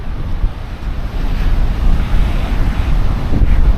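Ocean waves surge against the Hanseom breakwater on the Gangwon coast in rough weather, a continuous roaring wash that swells toward the end, heavy with buffeting wind noise on the microphone.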